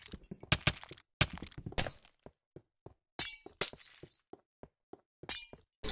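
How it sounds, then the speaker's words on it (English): Glass blocks shattering one after another in Minecraft while a player tears down tall glass pillars: a rapid run of sharp, bright breaking crashes with brief gaps, loud and close, no talking. "Building giant pillars of glass and then breaking them so I can get rid of glass in my inventory"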